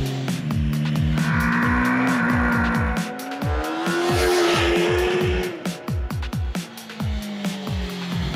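MV Agusta Brutale RR motorcycle ridden on a test track near Krugersdorp, South Africa, a loud close engine rising and falling in pitch with rapid rhythmic pulses of quick gear changes.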